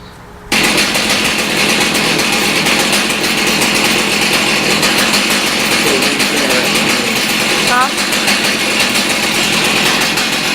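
A chainsaw engine idles loudly and steadily close by, left running so the fuel burns out of its carburetor and fuel line, starting abruptly after a brief quiet moment and holding an even drone throughout.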